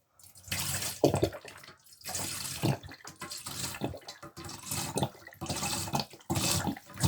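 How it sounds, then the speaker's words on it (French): Water is poured to fill a container in a series of gushing, splashing bursts with brief pauses between them. The sound is close and moderately loud. "Me revoilà avec de l'eau. Donc, c'est parti. On va remplir un petit peu."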